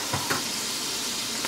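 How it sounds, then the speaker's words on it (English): Minced garlic, about four cloves, sizzles in melting butter for a shrimp Alfredo sauce, a brief, soft, close hiss with faint clicks and no voice. "when you go ahead and melt your butter, we're going to also go ahead and add in our minced garlic"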